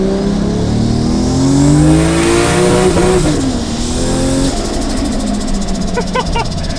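A Toyota Soarer with a home-built single-turbo 1JZ engine revs loudly up close, its pitch climbing and wavering as it bounces against the rev limiter, followed by a lower, rougher engine note and some rapid popping.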